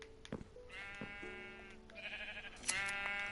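Sheep in the video game Minecraft bleat several times in overlapping wavering calls, fairly close and moderately loud, with no speech.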